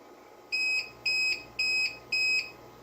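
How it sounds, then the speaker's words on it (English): A battery backup UPS sounds its low-battery alarm in four evenly spaced, shrill electronic beeps, each about a quarter-second long, clear and close against a quiet hum. "I turn the alarm on and see it's gonna be beeping"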